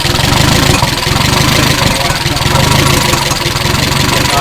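An engine idles steadily after its dry lifters were fixed, a loud, even, continuous running note with a fast regular pulse and no talking.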